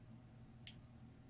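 A single faint, crisp tick from a baitcasting reel's clicker part during bearing tuning, heard alone against a quiet background hum.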